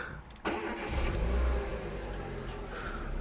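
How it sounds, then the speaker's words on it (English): A 2006 Renault Clio engine cranks briefly and catches, then settles into a steady running rumble up close, with no talking. "I think I'm gonna actually start the engine"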